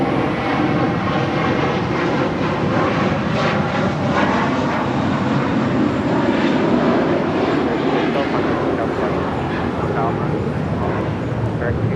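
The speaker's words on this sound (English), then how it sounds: "First up should be Korean Airplane 18 heading back to Seoul, that A380 Super" A Korean Air Airbus A380 bound for Seoul departs Los Angeles International Airport, a loud, sustained broadband jet roar that holds steady throughout, with voices talking over it.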